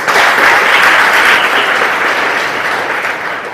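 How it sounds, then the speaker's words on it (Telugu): Steady applause from a crowd at a training closing ceremony, many hands clapping continuously and loudly, gradually fading slightly toward the end. "అసిస్టెంట్ డీన్ చైతన్య కుమార్ మేడం గారికి క్లాప్స్ కొడదాం"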